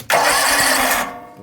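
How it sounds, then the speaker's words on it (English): A Kawasaki engine on an Exmark mower, just repaired for surging and rough idle, cranks and fires into a loud, steady roar for about a second before dropping away. "Now we'll see what she sounds like when I start it."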